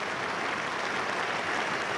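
A cricket crowd at Headingley applauds a batsman during a 1976 England versus West Indies Test match, a dense, steady wash of clapping heard at a distance with no voices on top.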